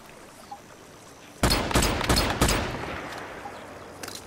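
Gunfire in the video game Once Human: a quick burst of about four loud shots in rapid succession, each with a sharp crack and short decaying tail, after a quiet lead-in.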